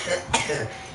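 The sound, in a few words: coughing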